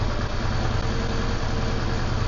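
A Yamaha V-Star 650 motorcycle idles steadily and close by, with a rough, low, even engine throb that carries on unbroken and without talk; its top cylinder still puffs a little oil smoke.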